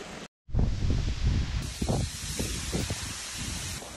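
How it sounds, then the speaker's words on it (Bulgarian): Strong, gusting wind roars at a lakeside during a fishing trip for pike, trout and mullet, a loud, continuous buffeting rush over the microphone after a brief dropout near the start. "Вятър е убийствен."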